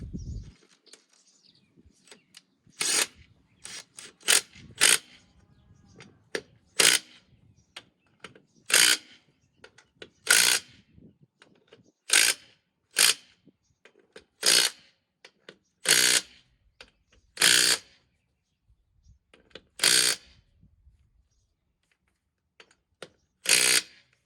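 Hand tools tighten the bolts on an ATV under repair, with sharp, separate ratcheting bursts spaced a second or two apart against a quiet background, close and with no talking.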